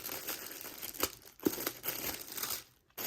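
Tissue paper crinkles and rustles close up during a Dior beauty unboxing, uneven crackling handling with a couple of sharper crunches and a short pause near the end.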